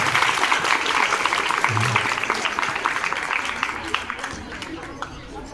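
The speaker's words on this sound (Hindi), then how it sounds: "इसके लिए भी लोग एक बार ताली बजाइए" An audience claps together at a Hindi-speaking gathering honouring teachers, a steady wash of applause that gradually thins and softens toward the end, with faint voices mixed in.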